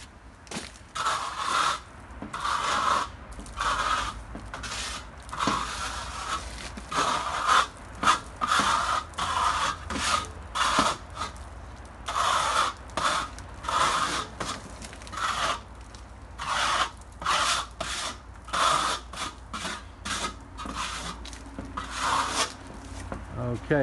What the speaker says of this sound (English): Now we're going to trowel it smooth.